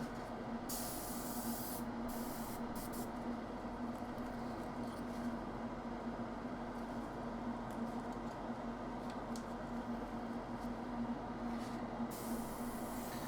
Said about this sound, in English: So I want to airbrush this into the shadows first.